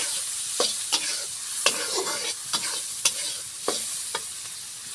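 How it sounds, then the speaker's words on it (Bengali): Chopped onions fry in hot oil in a pan under a steady hiss of sizzling, while a spatula stirs them in about eight sharp, irregular scraping strokes close by. "পেঁয়াজটা সুন্দর করে নাড়াচাড়া করে ভেজে নিব"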